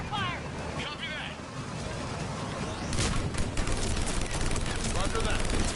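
Sustained cover gunfire in the Mass Effect 3 video game, a dense, steady rattle of shots that thickens partway through, mixed with game noise and voices.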